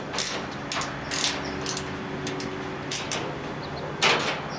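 Screws being backed out of sheet metal on a Purex/Pentair Minimax pool heater panel: scattered close ratcheting clicks and short metallic rasps over a quiet hum, irregular bursts with pauses between.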